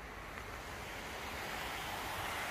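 A small waterfall spills from a canal culvert, a steady, broad rushing roar that holds even and continuous throughout, with no voices.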